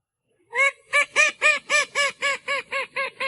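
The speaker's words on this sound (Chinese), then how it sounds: "觉得科尔鸭叫声没什么，不扰民。" A call duck gives about ten loud, evenly spaced nasal quacks in quick succession, close and alone, after a brief moment of silence.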